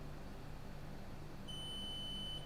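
Steady electronic beep tone from a multimeter on continuity test, probing a rail on a Gigabyte GTX 1080 Ti graphics card; the tone starts partway through and holds constant over low hum and background noise.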